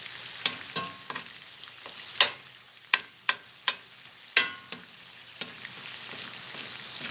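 Hamburger steak fries in a skillet, a soft, steady sizzle close by, broken by scattered sharp pops and crackles.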